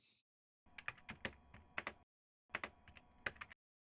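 Two quick bursts of keystrokes on a computer keyboard, a Linux command being typed: crisp, close clicks in an uneven rhythm, a short pause between the runs, with no talking.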